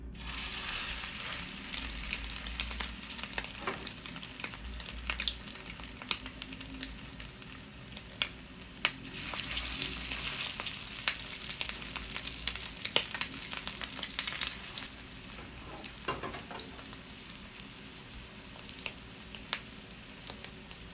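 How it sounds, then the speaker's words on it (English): Steady sizzling and crackling of salmon patties frying in hot oil in a pan, close and continuous, with occasional louder pops and spatters. "the heat and the actual frying process"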